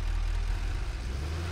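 A tractor engine in Satisfactory keeps running, a low steady drone with a slight throb held at an even level throughout, with nothing else over it.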